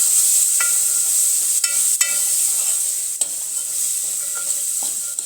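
Potatoes and chickpeas being stirred in a hot pan, a bright constant sizzle broken by several sharp spoon scrapes and taps against the pan, close up and without talk.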